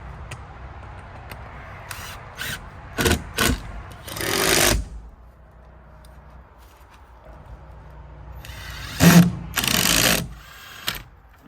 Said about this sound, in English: Just gonna screw it right in.